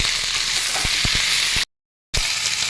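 Eggplant and ridge gourd with ginger and green chili paste sizzle steadily in a pan while a spatula taps and scrapes in a loose rhythm, the sound cutting out briefly to silence before resuming.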